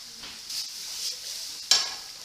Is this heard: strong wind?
no